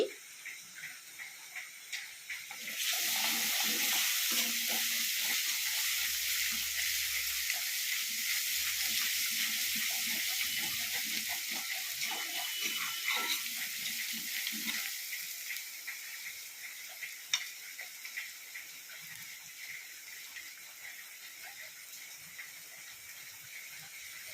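Indian gooseberries frying in hot oil for a Kerala-style pickle; a steady, loud sizzle bursts in after a quiet start and continues evenly, easing slightly toward the end.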